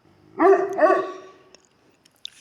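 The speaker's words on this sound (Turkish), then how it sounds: "Bakın karşıda köpekler var." Two close, loud dog barks in quick succession, followed by near silence with a couple of faint clicks.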